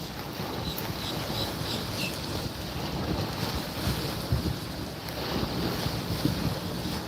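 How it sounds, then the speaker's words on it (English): Ocean waves break on a Florida beach in a continuous soft wash under wind buffeting the microphone, fairly distant and low, with no voices. "Hear the waves crashing?"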